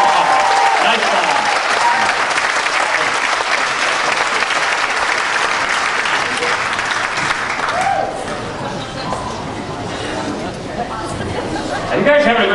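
Loud, dense applause with cheering fills a hall for a dance cover at a 2010 Dancing With The Stars of Auburn event, sustained throughout, easing slightly near the end before a brief swell.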